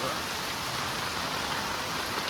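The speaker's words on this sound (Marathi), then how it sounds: "पाऊस तर बघा जोरातच चालू झालेलो" Heavy monsoon rain pours down in a steady, dense hiss that stays constant and loud throughout, with no voices, in Bhandup, Mumbai.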